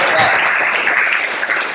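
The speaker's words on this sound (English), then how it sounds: "We'll clap for each person then." Audience clapping at a London Polymer tech meetup, a dense steady patter of many hands filling the room for under two seconds, with no pause or clear voice standing out.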